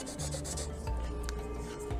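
Close, steady scratchy rubbing of a paper blending stump worked across drawing paper, continuous and soft, with no voices.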